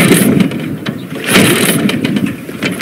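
A worn Ural motorcycle engine runs roughly up close, loud and uneven, its sputtering putter surging and dipping as if on the verge of dying.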